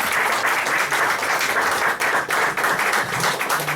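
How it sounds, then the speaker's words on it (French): Sustained audience applause filling a room after a literary meeting, dense steady clapping from many hands throughout with no talk. "je crois qu'on peut les applaudir très fort"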